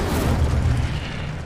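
Incendio fire spell cast in Hogwarts Legacy, a short booming whoosh of flame that bursts and then fades out.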